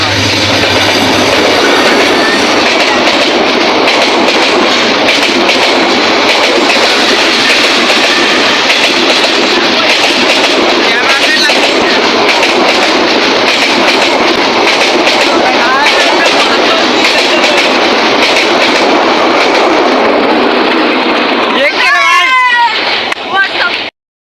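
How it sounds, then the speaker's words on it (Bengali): A loud, continuous roar and rumble of a train passing close by over a bridge, rattling for over twenty seconds before abruptly cutting off, with voices briefly audible near the end. "একটা ট্রেন গেল"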